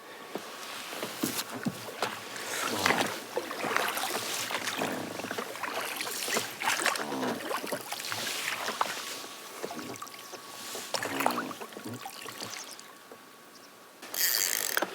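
A small fishing boat on a pike and zander trip in autumn moves across water with a constant splashing, rushing wash, plus occasional knocks and creaks nearby and no voices.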